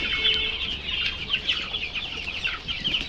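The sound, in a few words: broiler chickens clucking in poultry shed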